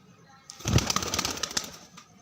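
Pigeons, one an Ali-wala type, give a burst of close wing flapping that swells suddenly and flutters on for over a second before trailing off.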